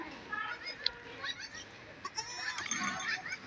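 A goat bleats among other livestock on a goat farm. A person talks over steady, busy background noise.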